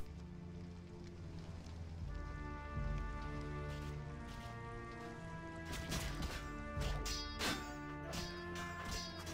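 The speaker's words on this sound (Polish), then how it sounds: "Czy znowu deszcz pada?" Rain in The Witcher video game, a quiet steady patter over a low musical drone, with a few louder thuds and clattering hits cutting through now and then.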